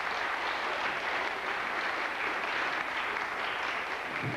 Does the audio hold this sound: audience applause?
yes